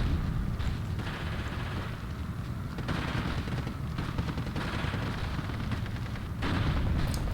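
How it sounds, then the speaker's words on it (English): Mortars firing during a World War II battle in the real-time strategy game Steel Division 2, a dense, continuous rumble of distant shots and blasts with several louder bursts rising through the din, and no talking. "But the mortars are firing still"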